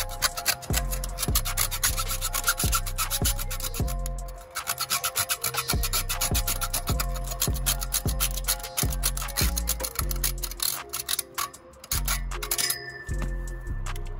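Rhythmic rasping strokes of a hand saw grind through a metal bike lock, steady back-and-forth cuts with brief pauses and occasional metallic clinks.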